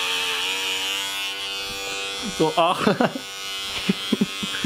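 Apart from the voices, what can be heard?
electric razor shaving hair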